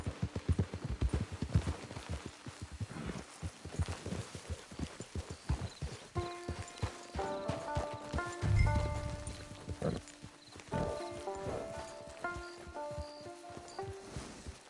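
Horse hooves clip-clop in Red Dead Redemption 2 as a horse walks toward a camp, a steady uneven patter of hoof falls, then a brief snort and soft chiming music tones toward the end.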